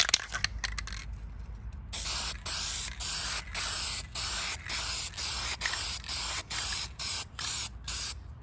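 Rust-Oleum Hammered spray paint sprayed onto a truck in a run of short, even hissing bursts with brief gaps between them, close and fairly loud, after a few light clicks and rattles at the start.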